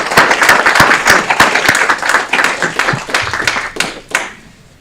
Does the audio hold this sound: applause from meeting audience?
yes